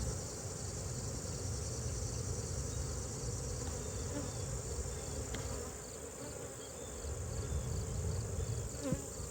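Dense, continuous buzzing of many honeybees close by around a hive frame, a steady swarm hum with no voices.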